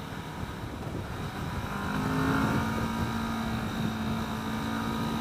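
A 2015 Kawasaki Vulcan S motorcycle engine held at about 7,000 RPM, a steady loud growling drone with a rising tone midway and a faint exhaust tick, no talk.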